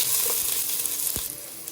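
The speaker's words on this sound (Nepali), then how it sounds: "सुप चाहिँ अलिकति म फ्राई गरेर बनाउनु मनपर्छ" Onion frying in a pan for chicken momo soup gives a steady, close, bright sizzle, with one soft clunk partway through.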